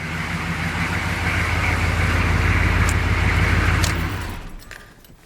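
A Squarebody truck with a 6.2 engine and new mufflers idles and rumbles close by, a steady deep exhaust drone that swells slightly before fading off near the end.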